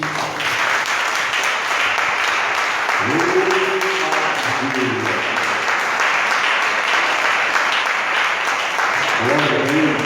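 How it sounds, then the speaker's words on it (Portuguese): A church congregation applauds for Jesus, with steady crowd clapping running throughout while someone speaks over it at moments in a raised, preaching voice. "Quem pode dar um aplauso para Jesus?"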